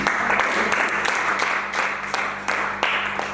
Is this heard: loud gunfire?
no